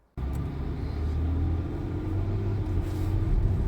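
A Ford Everest Wildtrak SUV cruising on the road, with a steady low engine and road rumble that holds constant from start to finish, close and continuous, with no voices over it.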